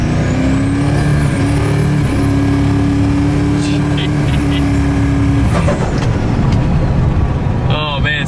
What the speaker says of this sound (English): All right, so try what, little 4-wheel drive launch?